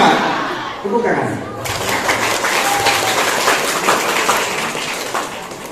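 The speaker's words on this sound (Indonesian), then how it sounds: "Tepuk tangan." An audience at a high school orientation assembly breaks into sustained clapping that starts after a brief spoken moment and fills the room for several seconds before tapering off.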